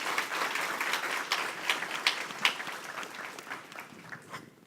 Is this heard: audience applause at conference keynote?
yes